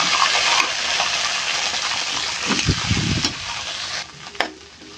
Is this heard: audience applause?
no